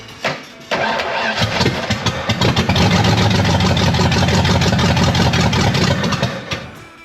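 A car engine cranks and fires up, then revs roughly and keeps running loud and close for several seconds.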